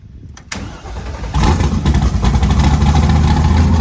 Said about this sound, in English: So we're gonna start up the car.